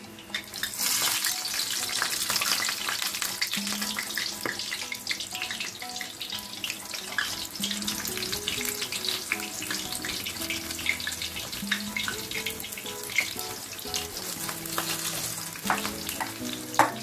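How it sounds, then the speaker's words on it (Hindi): Batter-coated spinach leaves deep-fry in oil for palak pakora, a loud, steady bubbling sizzle that runs unbroken with occasional clinks of a utensil, near and without speech. "हम सारे पत्तों को फ्राई कर लेंगे।"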